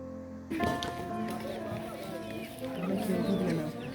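Chickens cluck and chatter nearby, with a sudden start after a brief quiet moment, some soft background movement mixed in.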